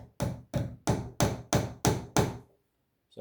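Hammer driving nails into a wooden frame: seven sharp, evenly spaced blows in quick succession, close and loud, then silence.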